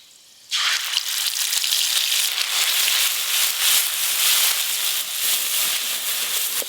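Panch phoron, poppy seeds, green chillies and white sesame hit hot mustard oil in a karahi, setting off a sudden loud, steady crackling sizzle that holds close and continuous, with no talk over it.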